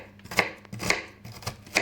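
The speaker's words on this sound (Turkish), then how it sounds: "Soğanımı da ince ince doğruyorum." A knife finely chopping onion on a cutting board, four crisp separate cuts at an uneven pace, close and fairly quiet, with no talking.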